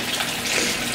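Tap water runs steadily while a cup is rinsed at a sink, a brief close gushing splash with no talk.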